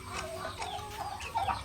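Farm chickens clucking in a steady run of short, nasal calls, fairly close and moderately loud, with a couple of sharper clucks near the end and no talking.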